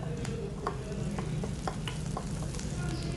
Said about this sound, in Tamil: இப்போ நம்ம சின்ன வெங்காயம் சேர்த்து வதக்கிக்கலாம்.